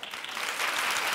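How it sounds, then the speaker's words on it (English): Audience applause in a comedy show setting, a soft, continuous patter of many hands that builds slightly and holds steady, heard at a moderate distance. "You don't have to clap."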